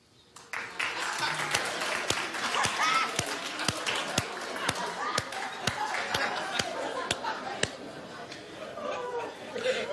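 A studio audience on a daytime talk show bursts into steady applause, with sharp individual claps standing out over a dense crowd of hands and some chatter, continuing for around ten seconds.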